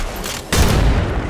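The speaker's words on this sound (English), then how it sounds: "Big nade." A grenade goes off in a ranked online shooter match, a sudden loud close boom that cuts in midway after quieter rumbling gunfire, its blast sustained and heavy until the end.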